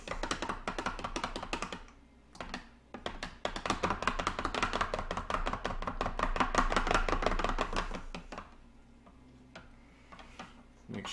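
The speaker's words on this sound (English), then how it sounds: "I'm going to give this a good stir." A utensil stirs a Fleischmann's yeast mixture in a bowl for pizza dough, making rapid, busy clicking and tapping that runs steadily for several seconds and then eases off, close by.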